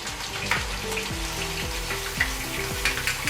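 Ginger garlic paste sizzling in hot oil for a whole chicken biryani, a steady close frying hiss with a low rumble from the burner or hood running underneath.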